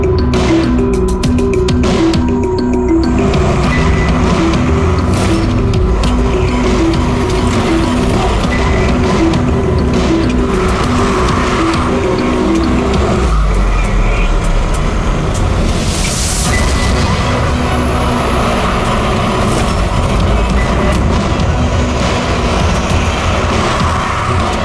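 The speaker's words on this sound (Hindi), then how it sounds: "वो गाड़ी में भाग रहा है" A car in a TV crime drama roars and rumbles as it speeds away, a loud engine and road noise with heavy bangs and a scored soundtrack, continuous with no clear talk.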